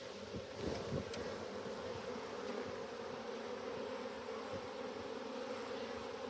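Bees buzz in a hive holding larvae and a queen, making a faint, steady humming drone with a few soft knocks near the start.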